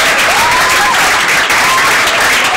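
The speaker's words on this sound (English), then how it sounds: "Please, I would love to see all of you clap" Audience clapping at a school education program launch: loud, continuous clapping from a group with a faint tonal squeal running through it.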